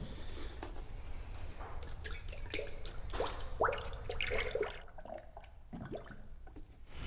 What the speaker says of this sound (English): we're going to go ahead and add this gallon of coolant here